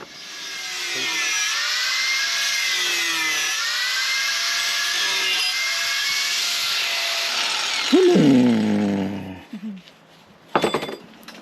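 A power drill runs continuously for about eight seconds, boring a hole in metal for a wood stove chimney pipe, its whine rising and falling before winding down, followed by brief clattering knocks near the end.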